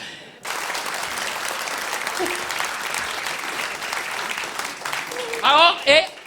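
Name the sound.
audience applause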